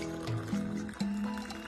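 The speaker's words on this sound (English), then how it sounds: "So I'm just pour it here." Piping hot homemade lemon juice is poured into a cup, giving a close, steady liquid fill with rising gurgling tones, loud and continuous throughout.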